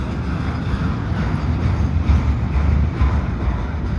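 A CPKC 119 freight train hauled by KCS Southern Belle locomotives passes at Dorval near dusk, a loud, close, steady low rumble of rolling cars.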